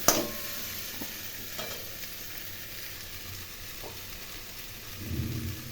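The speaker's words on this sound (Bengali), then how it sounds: "ছোটো টুকরো করে কেটে রাখা সবজিগুলো এর মধ্যে দিয়ে একটু ভেজে নিচ্ছি" Chopped vegetables fry with spices in a wok, making a soft, steady sizzle and hiss with a few faint scrapes and a low rumble swelling near the end.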